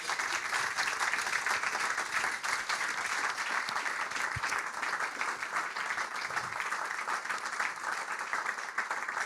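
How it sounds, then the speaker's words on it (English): An audience at Hawkwood gives sustained applause at the close of a live wildlife talk event, dense and even clapping holding steady for about nine seconds at moderate distance, with no talking over it. "Please give a big round of applause."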